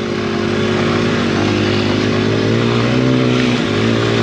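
Quad bikes ride through snowy woods, a loud, close, continuous engine roar holding a steady buzzing pitch throughout.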